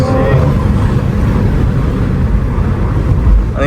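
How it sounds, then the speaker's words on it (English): A BMW M340i with a turbocharged engine revs hard, its loud, steady drone continuous and close for the whole stretch. "Ooh, that sounded aggressive turbo."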